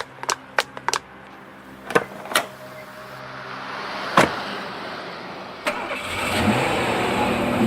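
A parked car's engine cranks and starts, following several sharp door and latch clicks. The engine settles into a steady idle and then rises slightly, heard up close with no voices.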